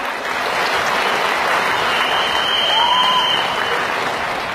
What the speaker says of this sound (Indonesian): dengan tepuk tangan untuk acara VS.